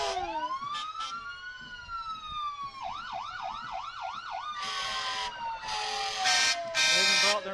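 Loud, close fire truck sirens wail and yelp in overlapping rising and falling sweeps during a loudest-siren competition, with bursts of a blaring air horn near the end.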